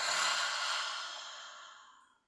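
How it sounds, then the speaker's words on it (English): A single deep breath drawn in and let out in a long, soft exhale, close and clear, fading gradually to silence with no talking. "take a deep breath in and breathe out"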